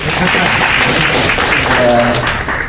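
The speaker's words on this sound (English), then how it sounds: "Yep, you can clap for him." Brief, loud applause from a gathered audience welcoming a public defender at a criminal justice reform event, a thick wash of clapping with voices mixed in.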